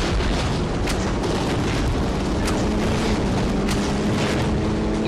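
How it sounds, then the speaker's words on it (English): A grenade blast in Saints Row 2, a loud, continuous broadband roar with deep rumble throughout and several brief sharp crackles layered on top. "I'm just gonna use this grenade for now"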